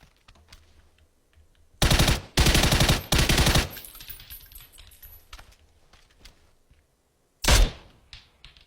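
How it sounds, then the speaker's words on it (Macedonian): Gunfire in PUBG, two rapid bursts of automatic fire up close followed by quieter rattles, then a single sharp loud shot later, with near-silence between. "Некој пукање имаше."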